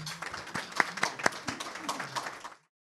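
Scattered clapping from a seminar audience at an intraocular lens symposium in Seoul, welcoming a professor to the stage; sparse, uneven claps with a few sharp ones, fading out abruptly to silence.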